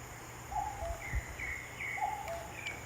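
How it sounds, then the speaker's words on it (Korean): Birds chirp in short, faint, repeated phrases around a mountainside eco art playground after heavy morning rain, set against a quiet outdoor background. "새소리가 들리죠?"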